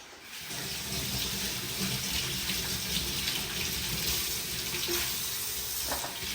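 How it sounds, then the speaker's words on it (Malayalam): Water from a kitchen tap runs steadily while plantains, tapioca and Chinese potatoes are rinsed, making a continuous close splashing rush with faint clatter toward the end. "നമുക്ക് കായൊക്കെ ഒന്ന് ആദ്യം കഴുകിയെടുക്കാം പൂള കഴുകിയെടുക്കാം കൂർക്ക അതൊക്കെ ഒന്ന് കഴുകിയെടുക്കാം"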